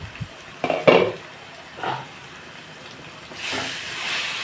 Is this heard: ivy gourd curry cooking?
yes